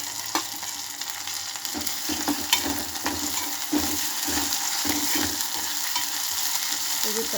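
Vegetable uppittu with green chillies and coriander leaves cooks in a pan, giving a continuous close sizzle with irregular soft scraping and stirring knocks throughout.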